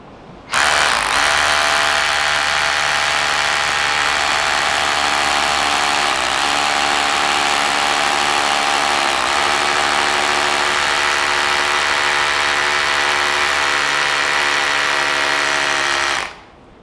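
An Ingco cordless drill bores into concrete with a long 6 mm bit, a loud, steady high-pitched whine with a rough grinding edge that runs unbroken for about fifteen seconds before cutting off.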